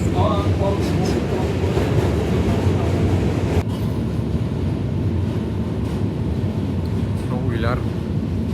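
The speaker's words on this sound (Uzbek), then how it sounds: "Buni bu mostda birdan mashinalar va poyezdlar o'tar ekan." Trains rumbling across a bridge in New York City with traffic, a steady loud rail clatter and roar filling the scene throughout, with a brief squeal near the end.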